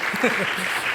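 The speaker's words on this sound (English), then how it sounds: "Yeah, clap." Brief burst of audience applause at a conference main-stage session, a dense patter of clapping heard close with some voices mixed in.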